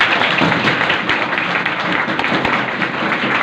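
A loud, dense burst of clapping from a large audience honours the teachers at a Teachers' Day school event, a continuous roar of hands from start to finish.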